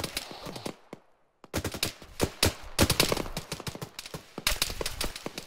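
Rapid bursts of simulated ArmA 3 infantry gunfire crack close and loud, overlapping shots in dense volleys after a brief lull near the start, with no talk.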